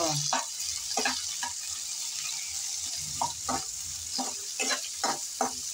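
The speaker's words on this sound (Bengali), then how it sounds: "সে চিংড়ি মাছ এখন আমি তেলে ভেজে নেব।" Prawns fry in hot oil with a constant bright hiss, broken by repeated spatula scrapes and knocks against the pan at an irregular pace, close up and with no voices.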